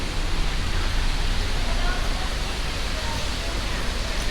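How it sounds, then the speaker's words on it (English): Steady broadband rush of a resort waterfall at Disney's Polynesian Village, loud and continuous from start to finish with no break in the flow. "heading in, waterfall to our right, waterfall to our left"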